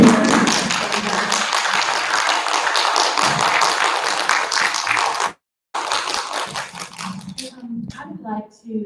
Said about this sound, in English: I want to invite us all to give a round of applause to these wonderful speakers.